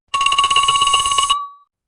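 A telephone rings for an anonymous tip-off call with a single loud, close burst of rapid electronic trilling that stops abruptly after about a second and leaves a brief fading tone.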